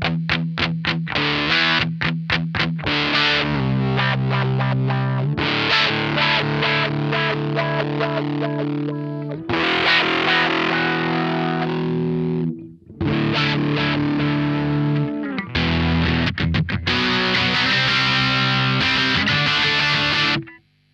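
Electric guitar runs through an Electro-Harmonix Cock Fight fuzz pedal with wah, giving loud, thick distorted chords and riffs with short choppy strums and a few brief gaps.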